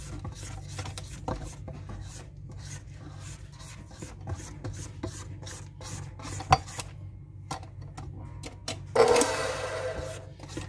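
A spatula scrapes the sides of a bowl of vanilla cake batter in repeated soft, close rubbing strokes, with a sharper clatter near the end.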